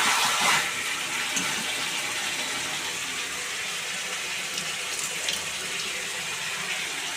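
Water pours steadily from a tap or jug into a pan of chicken curry that has been slow-fried until the oil separates, with a continuous close splashing rush throughout.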